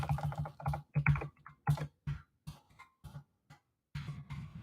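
Fingers tap out a comment on a computer keyboard in quick, irregular bursts of clicks with short pauses between, close and fairly quiet, with no speech.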